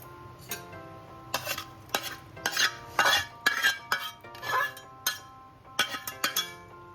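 Egg bhujia tipped into a cooking pot and stirred with a metal spoon, giving a run of sharp clinks and scrapes in uneven bursts, fairly close and alone.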